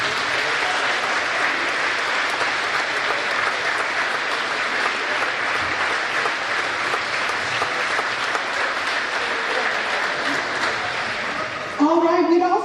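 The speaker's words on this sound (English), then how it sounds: "All of you, please stand up for a very, very deserved applause" A crowd at a parish thank-you BBQ for the St. Joseph Feast gives sustained, loud applause in a community center for about twelve seconds, and a voice starts speaking as the clapping ends.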